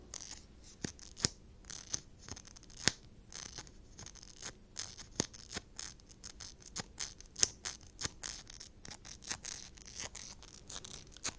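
An eyebrow makeup product is brushed through brows in close, quiet scratchy strokes, a steady run of crisp brief scrapes repeating irregularly with no talking.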